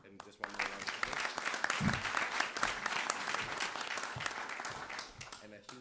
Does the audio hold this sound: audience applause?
yes